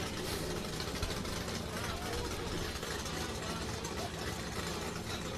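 A loud race UTV engine idles and revs right nearby at a motorsports event, a dense continuous roar filling the whole stretch with voices partly under it.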